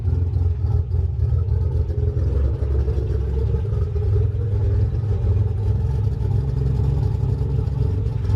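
A 1988 Nissan 300ZX Z31 project car idling rough after sitting through winter, heard from outside the car: a steady low engine rumble with uneven clattery pulses and no talking.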